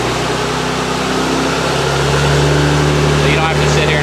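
A Peterbilt 379 truck with a tungsten Cummins diesel engine idles nearby in a steady, low, throbbing drone, with someone talking over it.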